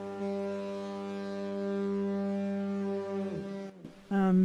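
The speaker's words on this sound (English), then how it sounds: "the very deep-throated diaphone, the foghorn" A deep, steady diaphone foghorn blast at a lighthouse drones on for several seconds, rich and resonant, then cuts off briefly before sounding again.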